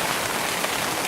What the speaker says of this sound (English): rain is coming down in sheets because of the wind